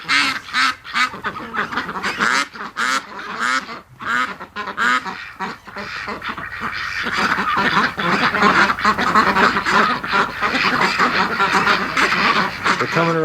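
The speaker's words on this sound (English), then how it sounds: "Then Rocco lays down, and the ducks come back." A large flock of around forty bush ducks quacks and calls close by, swelling into a dense continuous chorus, with a person speaking over the birds at times.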